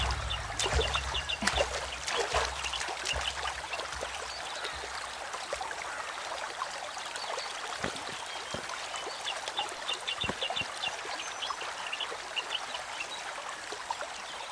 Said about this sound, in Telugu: దగ్గరలో వాటర్ ఫాల్స్ ఉన్నాయేమో.